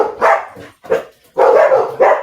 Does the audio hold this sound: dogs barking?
yes